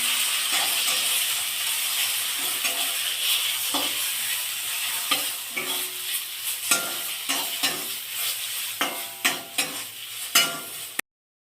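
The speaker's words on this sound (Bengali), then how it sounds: "ছোলার ডালের পেস্টটা দিয়ে দিলাম এটা নাড়াচাড়া করতে করতে তার মধ্যে নুন আর মিষ্টি দেব" Split chickpea lentil paste for dal puri fries in a pan with a bright, continuous sizzle. A spatula stirs and scrapes it in quick strokes that grow sharper and more frequent toward the end, close up, with no voices.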